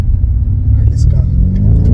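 A BMW F90 M5 engine pulls hard under acceleration, a loud, steady low rumble that holds for the whole stretch.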